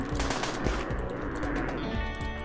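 Rapid gunfire in the video game RimWorld during a map hit by a natural disaster, sustained bursts of shots over a dense game soundtrack, loud and continuous throughout.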